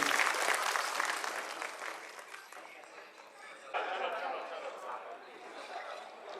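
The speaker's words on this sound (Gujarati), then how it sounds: "આપણે ફરી એમને તાળીઓના ગડગડાટથી વધાવી દઈએ." Audience at a Rajput community Vijaya Dashami celebration in Vadodara applauds in a dense, sustained clatter of clapping. It eases off, then swells again partway through, with some voices mixed in.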